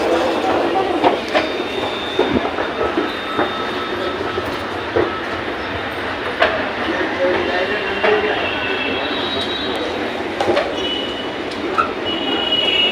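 A metro train rolls past near a station in Ghatkopar, Mumbai, a steady rumble with rhythmic wheel clicks and occasional squeals, loud and close, with voices talking faintly over it.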